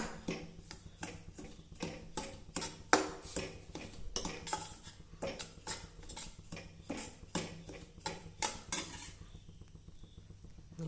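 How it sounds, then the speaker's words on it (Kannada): Semolina roasting in ghee in a pan for banana kadubu, stirred with a metal spoon that scrapes and clinks against the pan in an irregular rhythm of close, distinct taps, with no talking. "ನಾನು ತುಪ್ಪ ಹಾಕಿದ್ದೀನಿ ಇದನ್ನು ರವೆನ ನಾನು ಹುರಿತಾ ಇದ್ದೀನಿ"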